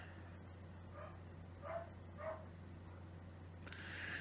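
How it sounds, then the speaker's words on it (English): A few muffled dog barks sound faintly from a distance, spaced apart, over a steady low hum, followed by a brief rustle. "And now my dogs are barking"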